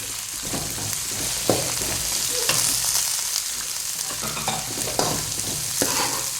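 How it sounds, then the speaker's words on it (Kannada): Carrots and peas frying in oil while being stirred make a steady close sizzle, broken by repeated scraping strokes of a spatula against the pan. "ಕ್ಯಾರೆಟ್ ಮತ್ತು ಬಟಾಣಿ ಚೆನ್ನಾಗಿ ಫ್ರೈ ಮಾಡ್ಕೊಳ್ಳುವ"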